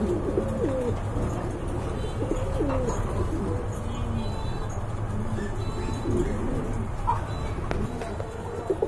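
Soft, rolling pigeon coos repeat at intervals from nearby birds over a constant low hum.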